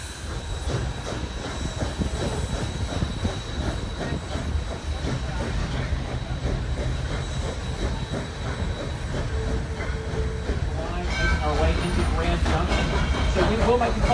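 Locomotive 630 pulls forward on the rails at a railroad museum, a steady rumble of wheels and rail clatter filling the scene with faint squeals, while people talk over it close by.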